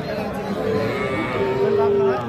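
A bull calf moos in a long drawn-out call at a busy cattle market, close and clear over a low background murmur of people.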